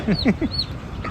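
Small chicks cheep in a few quick high chirps, close by, with faint background noise.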